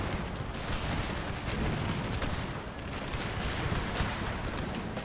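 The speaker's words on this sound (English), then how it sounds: "Now we're seeing explosive shots." Dense, continuous volleys of explosive musket and cannon fire in the Total War Thirty Years' War game, Habsburg campaign, a loud rolling roar of overlapping shots and blasts with no pauses.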